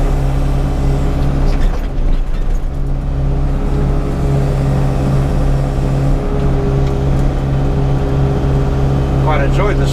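A vehicle drives along a road with a loud, steady engine drone and road rumble, and a voice talks over it.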